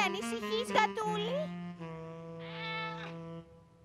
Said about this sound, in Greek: Χάιδεψε το γατάκι για να μην φοβάται.